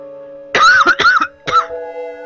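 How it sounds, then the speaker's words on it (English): A man coughs into his microphone during a gaming session, two quick harsh coughs followed by a third after a short pause, close and loud against a quiet background hum. "Got a bit of a cough today."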